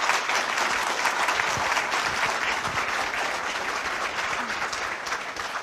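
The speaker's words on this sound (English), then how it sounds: "I would like to ask everybody here to offer a very loud applause" A lecture audience delivers a long round of applause at the close of a session, many hands clapping in a thick, steady roar that stays strong and even from start to finish.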